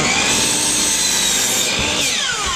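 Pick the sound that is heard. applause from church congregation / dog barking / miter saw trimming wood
miter saw trimming wood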